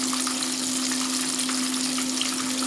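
Food frying in very hot canola oil, giving a steady, close sizzling hiss with a faint constant hum underneath and no voices.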